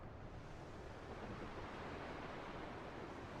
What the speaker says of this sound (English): I can still hear the waves, so we should still be